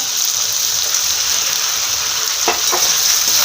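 Tomatoes dropped into a pan of vegetables frying in oil for a quick vegetable pulao, giving a steady close sizzle with a couple of brief splashy bursts as they go in, no talking.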